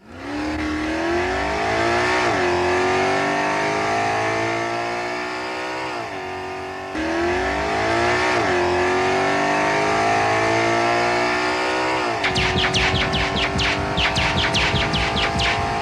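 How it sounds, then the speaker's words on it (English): Speeder bike chase through the Endor forest from Return of the Jedi, loud continuous whining engine roars that rise and fall in pitch as bikes pass, ending in rapid chirping laser-like bursts. "one of the best parts of Return of the Jedi was the speeder bike chase on Endor"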